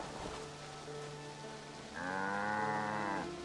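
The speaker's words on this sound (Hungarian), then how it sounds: "Tehén! Hol van?" A video game cow lets out a single drawn-out moo, loud and close, rising in strength partway through and ending abruptly, with game ambience underneath.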